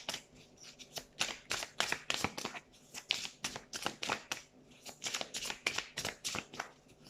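Tarot cards being shuffled by hand, close up, in quick bursts of riffling and slapping strokes, with a short pause partway through before the shuffling resumes.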